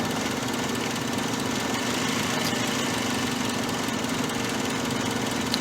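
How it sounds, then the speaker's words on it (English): A 2009 Hyundai Sonata engine runs rough and stumbling with its EVAP purge solenoid held wide open, a steady, loud mid-pitched drone with an uneven, labouring idle and no talk over it. "So the engine's stumbling real bad."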